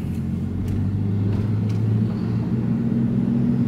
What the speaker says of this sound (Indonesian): Suara mesinnya masih dapat kita dengarkan dengan jelas ya